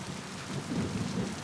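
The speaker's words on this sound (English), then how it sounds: "And of course it's raining." Steady rain and a low rumble of thunder in the video game Mass Effect 2, a continuous dense wash with a deeper swell near the end, no voices.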